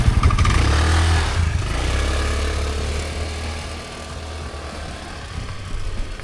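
A moped scooter engine, rented on Phu Quoc island, starts with a loud rev and settles into a steady close idle, its buzzing drone continuing alone without speech.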